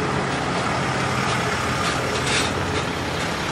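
A truck hauling a trailer with a folding corn head for a Gleaner combine pulls in, its heavy engine rumbling steadily and loudly with a broad hiss throughout, no talk over it.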